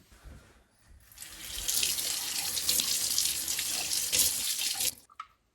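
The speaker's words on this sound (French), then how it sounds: "on n'hésite pas à le nettoyer juste à l'eau du robinet" The removable brew unit of a De'Longhi Magnifica Start coffee machine is rinsed under running tap water with no soap. A steady, close gush starts after about a second and stops abruptly near the end, followed by a few drips.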